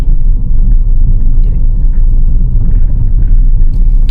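Car moving along a narrow road, a loud, steady low engine and tyre rumble filling the whole stretch without a break, close to the microphone and with no talk over it.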